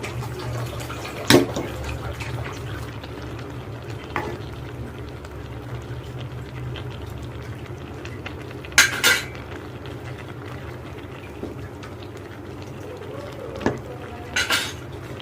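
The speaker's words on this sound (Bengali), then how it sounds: "চিনি পাটালি দিয়ে আমি নেড়ে নিয়েছি ভালো করে।" Sugar and jaggery being stirred into payesh in a pot, heard as scattered spoon clinks against the metal at a few moments over a steady low background hum, with no talking.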